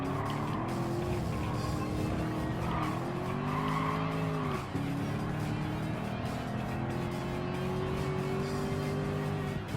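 A Ford race car in the Gran Turismo 7 video game howls through a race, its engine rising and falling through gear changes with tire squeal and other cars' engines layered in, steady and loud throughout.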